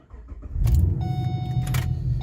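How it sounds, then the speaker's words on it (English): A Pontiac G8 engine cranks and catches with a key, then settles into a steady, close idle, with a whine from the starter motor running under the early rumble. "we're going to start the car"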